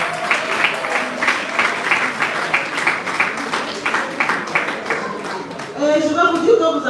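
A conference audience claps and cheers loudly for several seconds, the dense applause holding steady before rising into a burst of louder cheering near the end.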